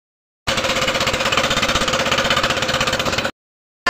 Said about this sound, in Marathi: टॉयलेट साफ करण्याची मशीन आली.